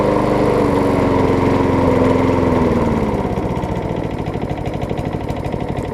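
A rusty, modified Murray push mower's small gas engine runs steadily at close range, then is throttled down to a lower, rougher idle with a pulsing, chugging beat.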